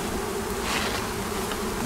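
A honeybee colony at the end of overwintering, its hive opened with the upper box lifted off and the bees fairly calm, gives a steady, dense buzzing that holds evenly close by throughout.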